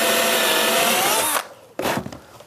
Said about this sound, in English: I'm going to use a Forstner bit here to give me a recess